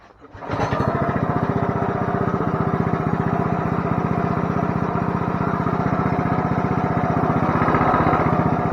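A Coleman CT200U-EX mini bike engine with a rattling clutch and suspected governor trouble catches after a short pull and settles into a loud, steady, rapidly pulsing run close by.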